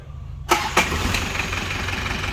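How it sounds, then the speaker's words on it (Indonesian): A used car's engine turns over and catches after half a second of quiet, then settles into a steady close idle with a rough rumble. "Sekarang coba kita nyalakan untuk performa mesinnya."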